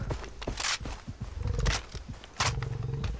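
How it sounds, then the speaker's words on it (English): A tiger in Far Cry 3 roars in a series of deep, rumbling growls, loud and near, with the game's ambient sound underneath. "I can hear a tiger."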